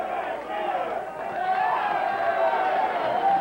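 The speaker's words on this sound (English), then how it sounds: "that's what the crowd is yelling about" A crowd at a tag-team wrestling match yells and cheers in a continuous roar, with a commentator talking over it.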